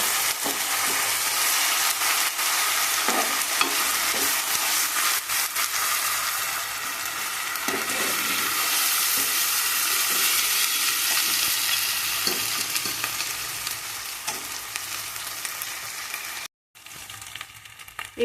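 Ginger garlic paste frying in a pan for chicken curry makes a loud, close, continuous sizzle with scattered stirring scrapes, then cuts out briefly near the end and resumes.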